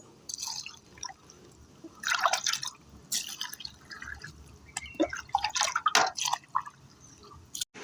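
Water splashes and trickles onto a soil vegetable bed made with vegetable peels, coming in irregular bursts of dripping and splattering with quiet gaps between, nearby and with no voices.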